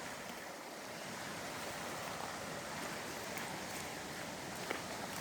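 Water flows by a stream in a forest, an even, broad rushing hiss that holds steady from start to finish, with faint wind noise and one small knock near the end.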